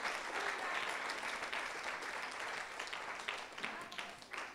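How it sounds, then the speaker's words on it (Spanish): A church congregation gives a steady round of applause during a sermon, broad and even clapping from many people heard at a moderate distance, with a little voice mixed in. "Dele un aplauso a él."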